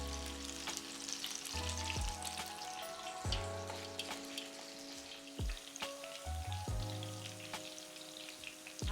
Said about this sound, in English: And then while those are frying,